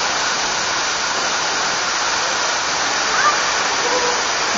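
Katibawasan Falls, a tall waterfall, roars as a steady, dense rush of falling water that fills the whole clip evenly and loudly.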